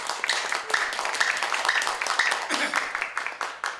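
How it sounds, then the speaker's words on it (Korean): A church congregation in Gangnam, Korea, gives a light round of applause of scattered claps, partly under the pastor's voice. "한번 수고했다고 박수 한번 할까요?"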